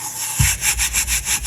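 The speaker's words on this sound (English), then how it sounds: "So just rub it in with a gloved hand." Gloved hand rubbing vinyl onto a resin tumbler, a steady back-and-forth scrubbing friction repeating in quick even strokes, close and fairly loud, with no talking.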